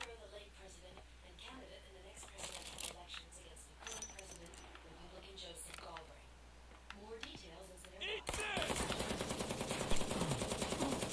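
Sustained automatic gunfire from a held-down trigger in the shooter XIII, bursts of rapid shots under quiet talk, then a sudden louder, harsher wash of noise near the end.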